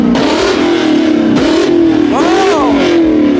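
Ford Mustang engines rev hard and loud, a continuous roar with rising and falling pitch sweeps, while someone talks excitedly over it.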